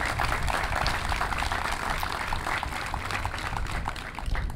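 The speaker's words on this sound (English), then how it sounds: "I'd like to give him a special round of applause." An outdoor crowd at a park dedication ceremony in Bellevue gives a steady, dense round of applause that holds at an even level throughout, with no talking over it.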